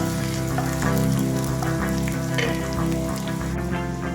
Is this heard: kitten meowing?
no